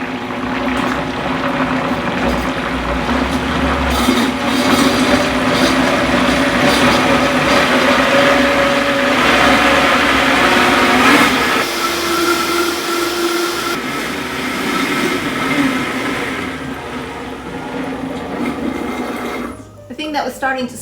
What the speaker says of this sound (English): it helps if I turn the blender on first